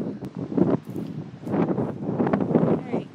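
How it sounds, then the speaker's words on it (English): Strong outdoor wind buffets the microphone in low rumbling gusts, loud and steady across a few seconds, with a voice briefly heard under it. "The wind's so bad."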